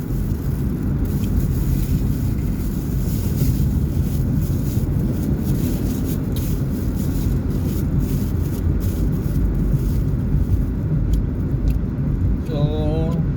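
Steady engine and road rumble of a car driving in Talisay, with continuous wind noise throughout and no talking.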